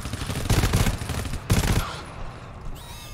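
Pistol gunfire in the co-op shooter game GTFO, with rapid close shots in two dense bursts followed by a fading tail.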